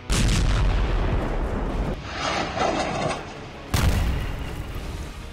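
Bombs explode during airstrikes on Gaza, heard as loud, heavy booms with rolling rumble. Several powerful blasts hit in succession, each followed by a lingering low roar.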